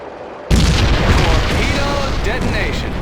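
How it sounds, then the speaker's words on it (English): A torpedo detonating in the WWII naval combat game Heroes of the Pacific during a Coral Sea torpedo mission, a sudden loud boom after near silence that rolls into a sustained roaring rumble. "Detonation."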